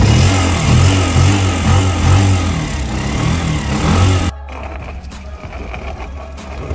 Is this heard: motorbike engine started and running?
yes